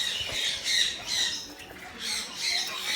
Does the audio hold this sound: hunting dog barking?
no